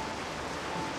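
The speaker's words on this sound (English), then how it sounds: "It's raining." Steady rain hisses evenly in the open-world MMORPG Tower of Fantasy, a soft continuous patter with no voices.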